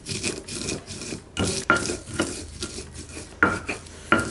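Peanuts, about 50 grams, ground by hand in a mortar with a pestle for karedok: irregular rasping, rubbing strokes with occasional sharper scrapes and knocks, close and fairly clear, no talking.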